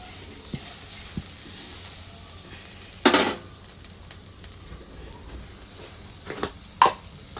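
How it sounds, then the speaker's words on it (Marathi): About one and a half bowls of water in a pot heats toward a boil for gram-flour vadis, giving a soft continuous hiss with a few sharp clinks of a utensil against the pot. "आता आपल्याला ह्या पाण्याला छान अशी उकळी येऊ द्यायची"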